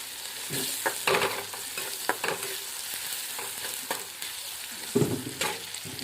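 A spoon stirs cooked rice with salt in a pan, scraping and clinking in uneven strokes over a faint sizzle, close and fairly loud, with no talking.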